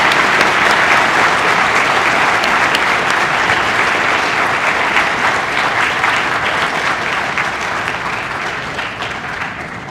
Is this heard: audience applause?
yes